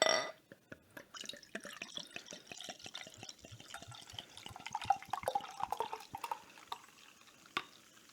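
Beer poured into glasses: a faint stream of trickling liquid with many small drips and fizzy pops, uneven and close, quietly settling toward the end.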